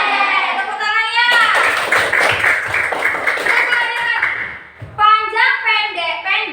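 A classroom of children claps together in a rhythmic burst between stretches of a teacher's speech, and a voice chants the long-short-short count before and after.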